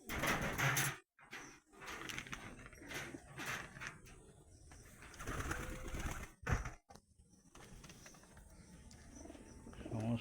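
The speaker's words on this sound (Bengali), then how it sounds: "সমস্ত পায়রাগুলোকে দেখানোর চেষ্টা করব।" Pigeons in a loft give low, murmuring coos and rustles that carry through about ten seconds. Brief breaks interrupt the sound, and a few louder bursts stand out.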